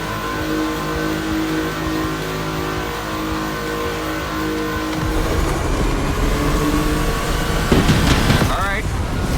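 Porsche 911 engine in The Crew Motorfest during a Gymkhana Grid Masters event, holding a steady drone that swells louder around midway, with a sharp rising rev burst near the end over background game sound.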